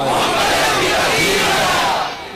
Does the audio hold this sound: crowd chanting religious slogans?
yes